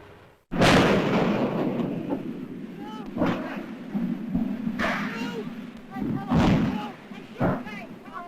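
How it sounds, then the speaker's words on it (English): The Hindenburg airship explodes and burns in archival newsreel sound, with a sudden heavy blast followed by rumbling booms and crackling thuds, under loud narration and crowd noise. "you are about to see the pictures he got when the ship exploded"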